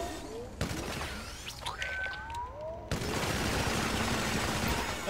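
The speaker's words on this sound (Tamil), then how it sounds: "கையில் வந்து மெஷின் கன் தான் கொடுத்துக்கிறாங்க, அதுவும் புல்லட் பார்த்திங்கன்னா இன்ஃபினிட்டி, கணக்கே இல்லை" Machine gun fire in GTA 5 gameplay, bursts of shots mixed with game effects, a brief quieter gap, then a sustained dense barrage to the end, loud and close.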